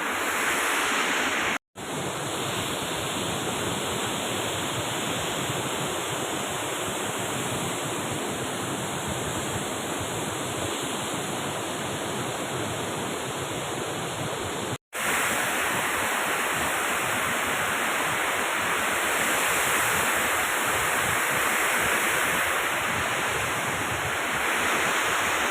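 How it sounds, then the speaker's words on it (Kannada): Mallalli waterfall roaring as a steady, dense rush of falling water, loud and close, continuous throughout apart from two abrupt momentary cuts. "ಫಾಲ್ಸ್ ಸೌಂಡಲ್ಲಿ ನಿಮ್ಗೆ ಕೇಳ್ತದ ಇಲ್ವ ಗೊತ್ತಿಲ್ಲ ನನಗೆ"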